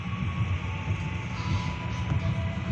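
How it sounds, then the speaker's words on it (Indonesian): A steady low rumble of the Walahar Express local passenger train running toward Purwakarta, Indonesia, continuous and fairly loud, with a faint high whine on top and no talking. "selamat datang di Kereta Api Walahar Express yang akan mengantar kita ke tujuan akhir stasiun Purwakarta"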